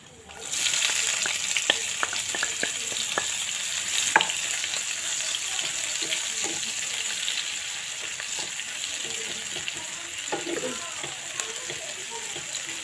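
Onion frying in a pan with dried chilies for a village-style taro leaf dish, a steady bright sizzle with scattered crackles and pops, plus stirring scrapes.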